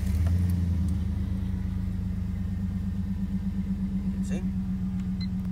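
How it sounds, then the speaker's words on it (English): A 2005 Chevrolet Avalanche engine runs close by with a steady, low, throbbing rumble that holds at an even idle for the whole stretch, with no clear crank or start. "Turn the car on."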